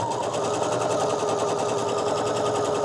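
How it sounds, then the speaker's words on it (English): A sewing machine stitches the pockets of a fabric bucket bag in a fast, even, rattling whir, running close and steady without a pause. "And go over to the sewing machine."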